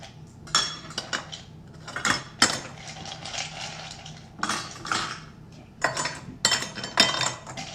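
Ice cubes clatter into metal muffin tins in a series of bright clinks and rattles, bursts of several knocks spaced by short pauses, close and fairly clear with no talk.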